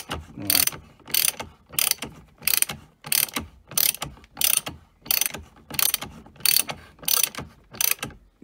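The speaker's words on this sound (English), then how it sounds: "ratcheting up my nut" A hand ratchet tightens a nut while fitting a steering angle sensor on a 2006 Porsche 997 Carrera 4S, giving about a dozen evenly spaced, close, loud bursts of rapid clicking with short pauses between strokes.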